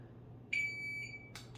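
A single sharp electronic shot timer beep, high and steady for most of a second, over a low hum, followed by a brief burst of noise.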